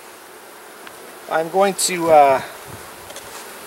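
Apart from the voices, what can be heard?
honey bees buzzing around a nuc box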